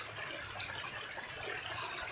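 Mountain water from Kanlaon poured out in a short continuous gush, a faint splashing and trickling wash of sound lasting about two seconds.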